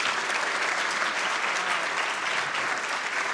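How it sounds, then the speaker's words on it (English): An audience at a conference session applauds, a steady, full round of clapping from a crowd that holds at an even level throughout with no talking over it. "You want to give them a round of applause?"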